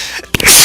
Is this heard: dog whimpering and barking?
no